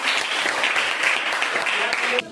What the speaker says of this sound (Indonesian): Tepuk tangan dulu untuk proyeknya